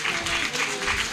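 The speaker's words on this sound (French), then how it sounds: "Je voudrais que vous applaudissiez pour les membres de la PADEM Bénin," Audience applause for members of PADEM Bénin, a steady dense patter of clapping throughout, with a faint voice underneath.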